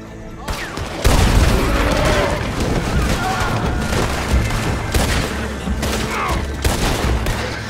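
Dynamite charges being shot and detonating in Red Dead Redemption 2, heard as a dense barrage of loud booming explosions and crackling blasts that runs continuously, with a voice briefly audible underneath.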